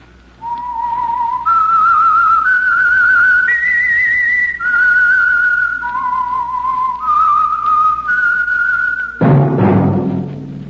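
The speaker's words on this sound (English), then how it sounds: "That whistle. The Whistler." A lone person whistles the theme of the radio show The Whistler: a slow, clear melody of sustained notes stepping up and down, with a brief rumbling thud right after the last note.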